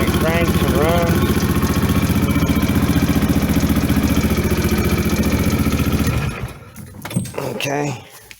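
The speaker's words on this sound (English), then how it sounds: "You hold the brake, and it cranks and runs." Coleman 250UTV engine cranking and running at a steady idle, a loud continuous mechanical drone with harmonic rumble for about six seconds before it cuts off, followed by brief talk and clatter.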